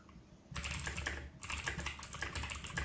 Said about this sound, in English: I should pause my thing so you don't hear the typing.